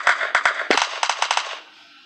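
Rapid bursts of Free Fire video game gunfire, a quick string of sharp shots in two clusters, then trailing off into quiet.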